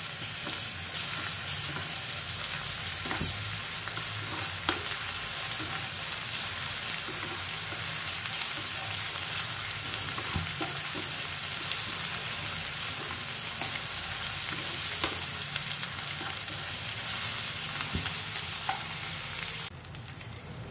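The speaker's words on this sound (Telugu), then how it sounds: "ఒక స్పూన్ అల్లం వెల్లుల్లి పేస్ట్ వేస్తున్నాను. ఇది చక్కగా పచ్చి వాసన పోయేంత వరకు వేయించుకోవాలి." A spoonful of ginger garlic paste frying in a pan for aloo kurma, a dense, even sizzle held for a long stretch with occasional faint clicks of stirring.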